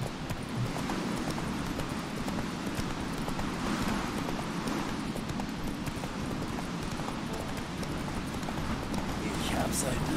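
Horse hooves clip-clopping in The Witcher 3 on the Isle of Mists, a steady dense patter of footfalls under continuous game ambience, with people talking over it.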